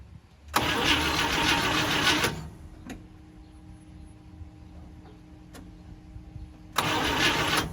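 The engine of a 1972 International Scout cranks over in two loud bursts of starter churning, about one and a half seconds each, close up, with a quiet pause and a faint click between them. It does not catch and start, and nobody talks.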